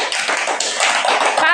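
Children clapping hands together in a classroom, a brief flurry of quick, close, overlapping claps with voices mixed in.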